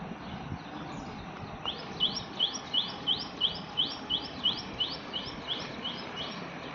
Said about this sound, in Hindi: वहाँ पे चिड़ियों की चहक आ रही थी।